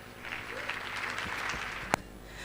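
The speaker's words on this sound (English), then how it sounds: "Please give a round of applause to Andy Young." A conference audience applauds as a speaker is introduced, a lively wash of clapping with a sharp louder clap near the end.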